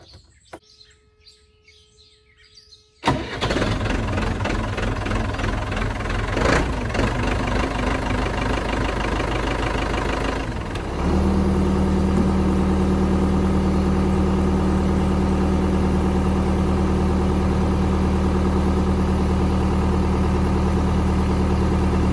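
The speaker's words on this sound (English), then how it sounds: "Let's fire up the backhoe, Vader, Backy, the Delcasell backhoe, and get started here." A Dalcasell backhoe engine cranks and catches after a quiet start with faint birdsong, then settles into a loud, steady diesel idle close by, the tone stepping up briefly before holding level, with no voices.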